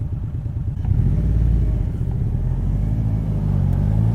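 Polaris Slingshot SL, a 2018 three-wheeler, cruising at 50 mph. Its engine gives a steady, low, throbbing drone and road rumble from start to finish, close and without speech.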